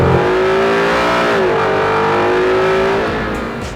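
A 2018 Ford Mustang GT V8 accelerates hard, its loud, close engine roar climbing in pitch, dipping briefly at a shift, then rising again before fading slightly toward the end, with no talking.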